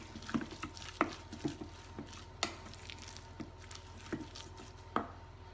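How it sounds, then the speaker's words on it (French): Mint and oregano are worked into a bowl for a Vietnamese recipe, heard as quiet, irregular taps and knocks of a utensil against the bowl with no talking. "Je mélange bien."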